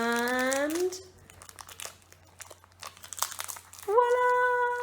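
Crinkly plastic lollipop wrapper being ripped and pulled open in a classroom, a burst of crackling and tearing close up, with children's voices and an adult speaking before and after.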